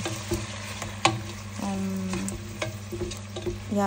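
Soy sauce is stirred into chicken adobo in a pan, producing a low simmering sizzle with intermittent spoon knocks and scrapes against the pan. The sound is fairly quiet and nearby, and no one speaks.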